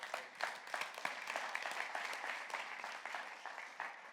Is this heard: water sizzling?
no